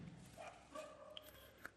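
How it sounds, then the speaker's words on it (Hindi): Several dogs barking somewhere outside, faint and distant, a few short yelps over a steady background hum. "कुत्ते बहुत भौंक रहे हैं भाई"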